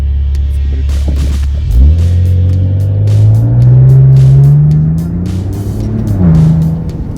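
A car pulls away hard in sport mode with a Pedal Commander throttle controller fitted: a loud, close engine rises from idle into a long climbing rev, eases off, then builds again, with no voices over it.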